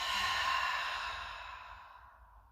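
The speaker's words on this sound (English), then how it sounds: "Relaxing exhale through the mouth." A single deep, relaxing exhale pushed out through the mouth, breathy and close, starting full and slowly fading away over a couple of seconds, with no talking.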